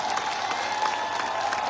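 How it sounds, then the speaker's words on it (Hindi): An audience clapping together at a packed motivational event in Gaya, Bihar, a dense steady wash of applause sustained throughout without pause. "एक बार 30 सेकंड तक लगातार जबरदस्त तालियां बजा के दिखा दो"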